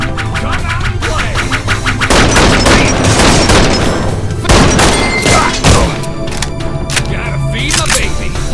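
Rapid, dense bursts of gunfire fill a boss fight against Purifier Starr in the post-apocalyptic pub crawler game Wasted, loud and nearly continuous, with heavy booming thuds layered over a steady background.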